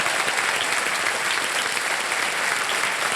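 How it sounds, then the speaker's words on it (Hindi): Thunderous studio audience applause on the KBC quiz show set, a thick, unbroken wash of clapping from a large crowd that holds at full strength throughout, with no voices on top. "जोरदार तालियां बज जाए इनके लिए।"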